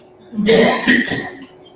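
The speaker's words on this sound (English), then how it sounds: "that cough came up clearly" A single throaty cough from the back of a room, rough, lasting about a second amid otherwise quiet surroundings.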